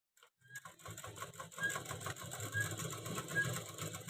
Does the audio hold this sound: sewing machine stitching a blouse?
yes